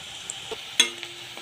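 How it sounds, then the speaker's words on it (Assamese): Bitter gourd (karela) fries in a pan while being stirred. A soft continuous sizzle is broken by a few sharp scrapes and knocks of the utensil, the loudest near the middle, with no speech. "আৰু অলপ সময় ভাজিব লাগিব।"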